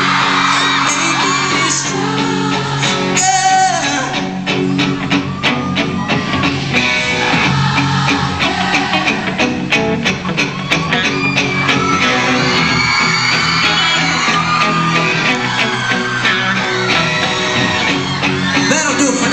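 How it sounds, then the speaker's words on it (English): A Dallas concert crowd at House of Blues during a show sings loudly along, a dense wall of voices with whoops and cheers over the band throughout, steady and close. "Let me hear this Dallas crowd sing it out one more time."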